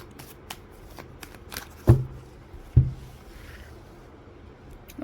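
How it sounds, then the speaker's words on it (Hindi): Tarot cards being shuffled and drawn for a full moon reading, soft riffling and sliding card sounds with two sharper thumps close up. "पहले मैं कार्ड्स निकाल लेती हूँ ताकि हमें समझ में आ जाए कि क्या आने वाला है"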